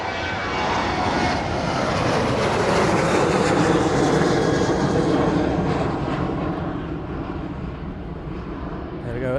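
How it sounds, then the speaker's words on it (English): A Jet2 airliner departs East Midlands Airport with a loud, sustained roar of jet engines that stays strong and steady across the whole stretch, softening slightly toward the end. "the Jet2 service off to Dalon, making its way out of East Midlands this afternoon"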